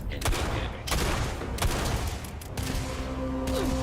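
Rifle fire in Starfield, a handful of loud single shots spaced slowly and unevenly apart over a steady game background, with a sustained tone entering toward the end.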